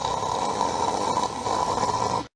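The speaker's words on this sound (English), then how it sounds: "I just heard what sounded like Mr. Lazy snoring." Snoring from a dozing man, one rough, rasping, continuous breath held for a couple of seconds at close range before cutting off abruptly.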